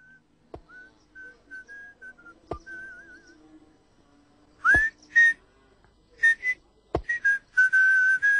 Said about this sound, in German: Pfeife und der Hund kommt.